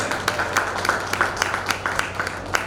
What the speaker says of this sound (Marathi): अध्यक्ष साहेबांचं सगळ्यांनी जोरात टाळ्या वाजवून स्वागत करायचं आहे